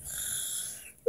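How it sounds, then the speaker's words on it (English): A single soft, breathy snore of about a second, drawn in near and alone before a brief sharper sound cuts it off. "Snore."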